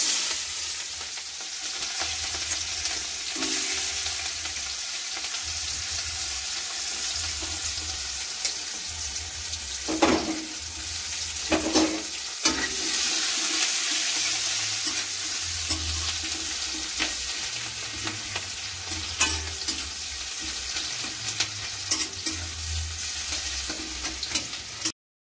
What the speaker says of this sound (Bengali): মাংসটা এবার লাল লাল করে কষিয়ে নিই।